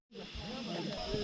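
Soup boiling in a pot at a mountain camp gives off a steady, close hiss of steam that starts abruptly and holds evenly, quiet and unbroken.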